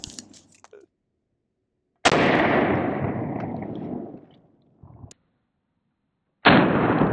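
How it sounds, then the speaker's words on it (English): A Langdon Tactical 1301 shotgun firing Remington 9-pellet double-up buckshot during a body armor test, two loud close blasts with long rumbling tails plus a sharper crack between them. "We have some Remington 9-pellet double-up buck, and we'll run it here in our Langdon Tactical 1301 shotgun."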